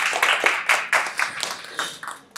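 A small audience at a Finnish event gives a short round of clapping, with distinct, fairly close claps landing at an uneven rhythm over a couple of seconds and no talking.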